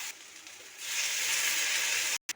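Potatoes frying in a pan for a breakfast potato curry hiss into a loud, steady sizzle as water is poured onto them. The sizzle swells after a quieter start and stops abruptly near the end.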